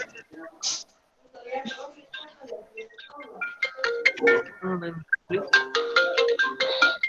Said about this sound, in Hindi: एक फोन आया है.